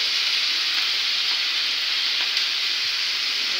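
Ginger sizzles loudly and continuously in a hot pan of oil during home cooking, a bright, even hiss heard alone with no voices.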